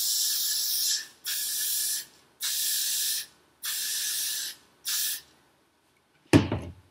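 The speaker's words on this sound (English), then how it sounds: "we're going to take the Got to Be Glued spray, and I'm just going to spray it." Five hissing bursts from an aerosol can of Got to Be Glued hair spray sprayed onto a cosplay wig, each about a second long with short pauses, followed by a brief clunk.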